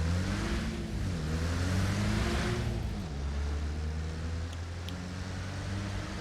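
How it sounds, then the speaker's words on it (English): A car engine in the video game Arma Reforger starts and settles into a low, steady idle hum with a slight rise in pitch early on, heard alone with no talk. "You'll know it was working because you'll hear the car start up."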